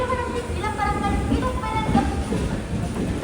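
A Jan Shatabdi Express passenger train runs out of Trichy, giving a steady rumble with faint rhythmic clatter and a whine, while muffled voices chatter inside the coach.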